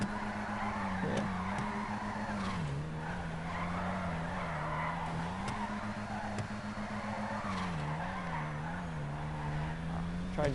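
A car in GTA Online drifts with a continuous tire squeal that wavers over a steady engine drone, mid-distance and fairly quiet throughout.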